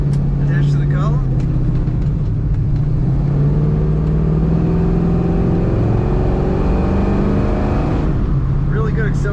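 A 1968 Chevrolet Camaro with an automatic transmission accelerates hard, its engine note climbing steadily in pitch as it pulls away, loud and close, then settling near the end.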